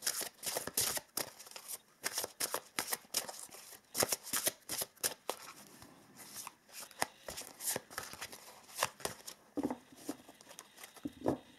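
A deck of oracle cards is shuffled and handled close up, with rapid riffling bursts, crisp slaps and soft sliding as cards are pulled, irregular in rhythm and moderately quiet.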